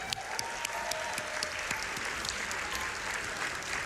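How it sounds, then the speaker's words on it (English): An audience applauds a speedrunner after a Super Ryu World 2 run at a speedrunning event, a dense, steady burst of clapping at moderate distance with no talking over it. "Can we get another round of applause, please,"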